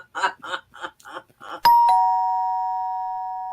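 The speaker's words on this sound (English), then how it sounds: "Oh, there's that doorbell" A two-tone doorbell chime rings out once, a bright ding followed by a long ringing tail, right after a stretch of rhythmic clapping or tapping.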